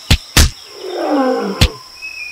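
A cartoon lion lets out a rising, rumbling roar lasting about a second, set between sharp thuds and impacts from a Justice League animated fight scene.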